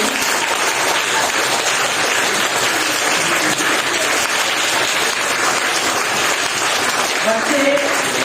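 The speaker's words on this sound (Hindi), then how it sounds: "बच्चे तालियों में कमी ना करें" Children applaud steadily at a junior college prize ceremony at an Urdu school, a dense, continuous clapping that fills the whole stretch with a few voices mixed in beneath it.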